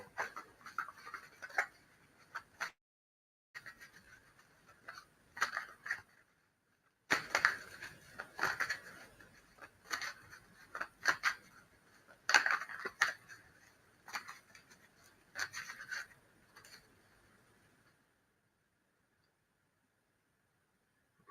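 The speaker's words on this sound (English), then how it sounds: "Give it a nice good shuffle." Tarot cards being shuffled by hand close up, with repeated soft riffling and tapping bursts in irregular rhythm across most of the span and a pause near the start, ending in quiet.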